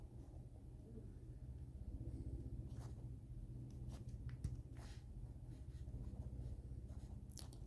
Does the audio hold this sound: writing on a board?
yes